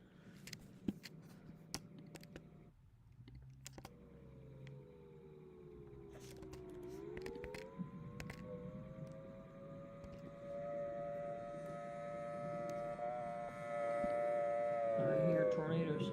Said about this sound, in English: I hear tornado sirens